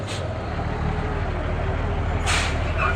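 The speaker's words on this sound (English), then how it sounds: "a big dump truck pulled over on the shoulder just behind them" A big dump truck pulling onto a road shoulder rumbles with a low engine drone, broken by two short air-brake hisses, one at the very start and another near the end.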